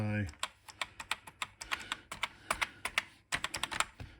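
Keys on a lubricated Didaktik M home computer keyboard pressed one after another, a close series of soft, irregular clacks and taps with brief pauses between bursts, no talk.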